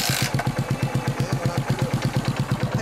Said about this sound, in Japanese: ほんなら SR からエンジン音聞かせてもらえますか